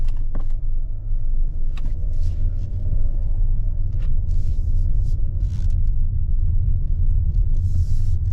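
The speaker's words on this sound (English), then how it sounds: "I can hear that dealer plate in the window as we go over some bumps" A 2021 Hyundai Palisade Calligraphy AWD rolls over a very bumpy road, its steady low cabin rumble broken by scattered light rattles and clicks from a dealer plate loose in the window, with no talking.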